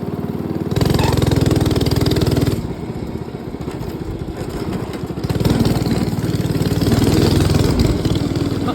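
A 212cc Predator engine on a go-kart runs close by, revving up into loud rapid chugging, dropping back to a lower idle, then surging again with a clattering mechanical rattle.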